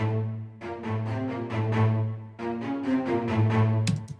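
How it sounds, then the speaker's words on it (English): A synthesizer arpeggio in Logic Pro, without force legato, plays choppy, separated notes in a quick pattern over a steady low droning bass, repeating after a brief pause. "So without it, the arpeggiator sounds like this."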